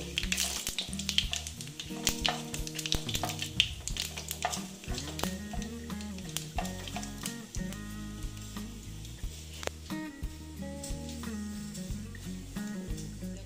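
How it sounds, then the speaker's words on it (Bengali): Dried red chillies and whole cumin and garam masala fry in hot oil as a tempering for a Bengali fish curry, a continuous crackling sizzle heard close up, with steady tonal music underneath throughout. "শুকনো লঙ্কা দিয়ে দিলাম, তারপরে দিয়ে দিচ্ছি জিরে, গোটা জিরে দিয়ে অল্প এটা ভেজে নেব।"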